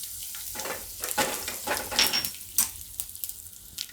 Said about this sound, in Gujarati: હવે આપણે એમાં મરચાં નાખી દઈએ અને લીમડો નાખી દઈશું અને હિંગ નાખી દઈશું.